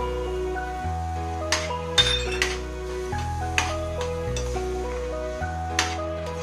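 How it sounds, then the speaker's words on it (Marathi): Fine semolina stirred in a pan over a low flame, heard as soft, irregular metallic clinks and scrapes of a spoon against the pan, set under steady background music. "आणि आता हे लो फ्लेमवरती सारखं हलवत पूर्ण ड्राय करून घ्यायचंय"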